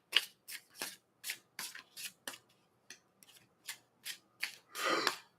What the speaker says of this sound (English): Now I gotta keep pulling cards.